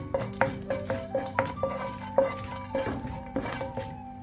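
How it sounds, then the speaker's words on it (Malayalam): Whole cloves, cinnamon and cardamom stirred in butter in a pan for paneer butter masala, with spaced clinks and scrapes of a spoon against the pot over a soft sizzle. "ഗ്രാമ്പു, പട്ട, ഏലക്കായ ഇത്രയും ചേർത്ത് കൊടുത്തിട്ട് ഒന്ന് വഴറ്റി കൊടുക്കാം"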